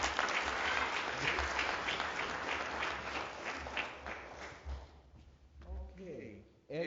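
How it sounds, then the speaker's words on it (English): Audience at a book awards ceremony applauds loudly for an honoree, dense clapping that gradually thins out, and a voice starts speaking near the end. "Big round of applause, please."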